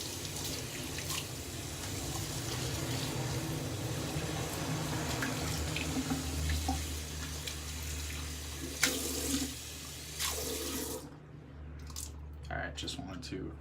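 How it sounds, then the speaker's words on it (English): A bathroom faucet runs steadily to rinse shaving soap off, a continuous close splashing rush that stops near the end, with a faint voice under it. "want to rinse the soap off"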